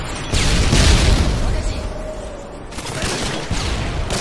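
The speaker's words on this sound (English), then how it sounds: "Friendly Predator missile inbound." Predator missile strike in Call of Duty: Modern Warfare 2, loud booming explosions with gunfire crackling around them during a Domination match on the Highrise map.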